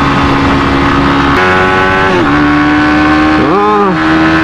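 A Suzuki GSX-S150 motorcycle engine revs hard toward about 12,000 rpm without hitting the cut-off, its steady pitch climbing and dipping in several swells, loud and close throughout.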